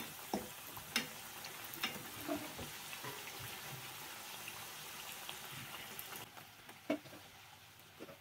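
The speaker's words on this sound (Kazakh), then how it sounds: "Дайын болған чебурекиларды қызып тұрған майда қуырып аламыз." Potato-filled chebureki pastries frying in hot oil, a quiet, steady bubbling hiss with occasional sharp pops and taps, heard close and alone.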